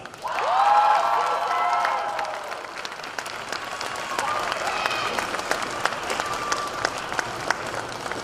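Audience at the 2023 NCAA small bore rifle championship applauding the individual champions, a loud burst of clapping and a few cheers that gradually thins to scattered claps, with some talk underneath.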